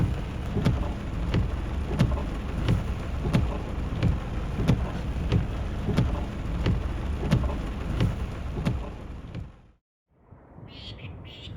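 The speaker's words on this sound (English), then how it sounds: "But an unseasonal cyclone had swung abruptly on shore and had other plans." Heavy rain from an unseasonal cyclone pours steadily onshore with repeated sharp cracks and rumbles of thunder, loud and dense for most of the stretch before cutting off abruptly.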